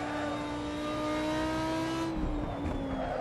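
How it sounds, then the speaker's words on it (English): An Audi R8 LMS Ultra race car engine in Assetto Corsa at the Nurburgring drones steadily at high pitch, then its tone drops sharply as it downshifts, roaring on loud and close with no talking. "Love how this vehicle sounds, especially on those downshifts."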